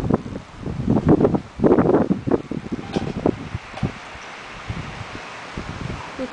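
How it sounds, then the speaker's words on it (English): Gusty wind rushes through backyard leaves, loud rustling surges in the first two seconds then easing into a steadier, softer breeze with faint flutters. "It's windy."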